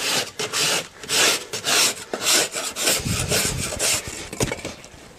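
A hand edge plane is drawn along the edge of a drywall board, giving repeated loud rasping scrapes in quick strokes, then a longer continuous shaving pass.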